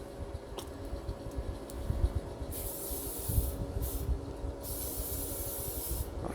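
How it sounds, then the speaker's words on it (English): Olive oil sprayed onto a batch of fries from a 2 pound bag in a Blackstone air fryer combo, heard as two close, sustained hissing bursts over a low background rumble. "All right, lightly give them a coat of some olive oil on top"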